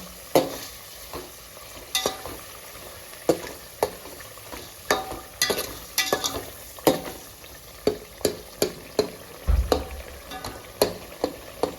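Khoya frying golden in a pan, a steady soft sizzle broken by regular scraping stir strokes roughly every half second, close and alone with no talking.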